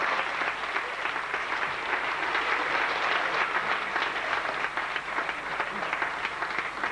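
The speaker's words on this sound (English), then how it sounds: "Give her a round of applause as it comes down" A live audience gives a sustained round of applause, dense steady clapping throughout at an even level, with no talk over it.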